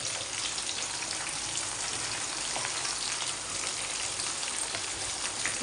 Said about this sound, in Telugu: ఫ్రై అయితే ఫ్రై చేసేస్తున్నాను.